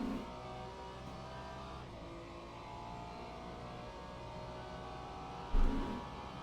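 Ferrari GT3 race car engine in the racing game Le Mans Ultimate at Sebring, a steady droning engine note held at high revs throughout, with a brief thump near the end.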